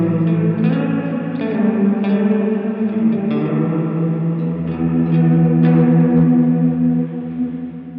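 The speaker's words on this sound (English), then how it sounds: "that's clipping a little bit too" A heavily processed tone from an M-Vave Mini Universe reverb pedal on a lo-fi setting sustains with gritty, slightly overdriven, clipping harmonics and shimmering modulation, dense and continuous before easing off at the end.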